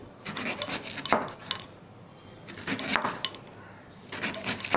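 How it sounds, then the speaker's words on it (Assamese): A knife works rapidly across a chopping board, finely cutting food in clusters of quick, scraping, rasping strokes separated by brief pauses, heard close and moderately loud with no talk. "এতিয়া মই চপিং বৰ্ডখন লৈছোঁ। এনেকৈ সৰু সৰুকৈ কাটি ল'ম আৰু একেবাৰে পাতলকৈ ল'ম।"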